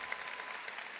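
Faint, distant applause from a high school graduation crowd for the class of 2025, a brief, even patter of many hands clapping.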